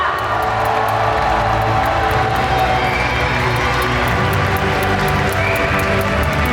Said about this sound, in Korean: 뜨거운 박수와 환호 부탁드립니다.